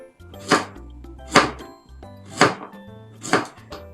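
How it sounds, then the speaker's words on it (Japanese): A kitchen knife cuts thin slices of pumpkin on a board, giving four close, crisp chopping strokes in an even rhythm, with no talking. "で、薄く切って"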